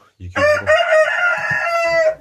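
A rooster in a chicken coop crows one long, loud, close call, with a few low clucks just before it starts.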